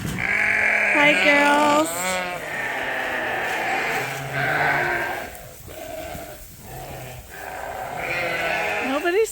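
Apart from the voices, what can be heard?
sheep (ewes) bleating at feeding time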